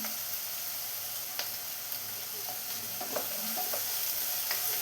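Sliced onions sauté in oil in a pan for a chickpea curry, a steady soft sizzle with occasional scraping clicks of a spoon stirring, close and continuous throughout.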